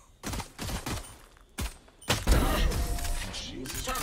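Video game gunfire during a tactical round: a few sharp single shots, then a louder sustained burst with clatter, heard close, with a voice talking over part of it.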